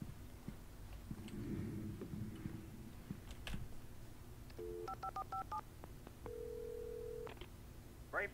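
Telephone being dialed in the video game Alan Wake at a sheriff station phone: a short run of distinct keypad tones in quick succession, then a sustained tone, all fairly quiet over a low background hum.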